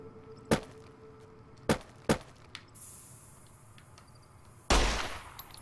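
Video game gunshots fired at a tumbleweed: a few sharp, isolated shots spaced irregularly, followed by a louder burst with a trailing rumble over a quiet hiss.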